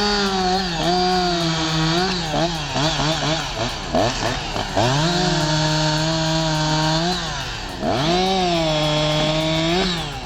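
A chainsaw cuts a tree into sections high above the ground, its engine revving loudly and bogging down through each cut, then climbing again in repeated surges.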